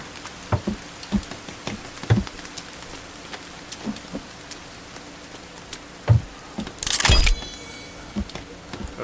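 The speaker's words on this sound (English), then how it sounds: "Oh, rain. Check that out. We're getting rain." Rain falls in the survival video game The Forest, a steady patter of drops with scattered louder taps and a brief noisy burst near the end, with no talk over it.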